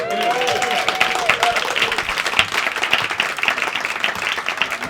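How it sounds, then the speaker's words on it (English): Audience at the Hot Water Comedy Club applauds a comedian, Kevin O'Brien, with dense, sustained clapping from a crowd that stays loud and even throughout, with some voices mixed in. "Keep it going with Kevin O'Brien, everybody. Keep clapping, a lot of energy."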